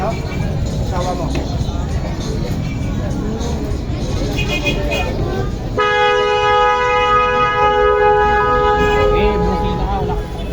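A long, loud vehicle horn blares from midway on, cutting through the busy crowd chatter and street noise.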